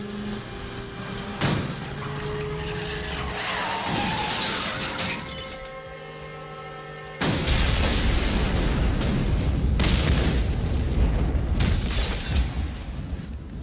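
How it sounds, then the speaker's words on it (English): A Ford Taurus crashing and exploding after running off a parking garage in the 1998 Recoil game, loud shattering and booming crashes layered over continuous game noise, with a heavy blast sustaining for several seconds. "run off a parking garage in a Ford Taurus and exploded for good measure"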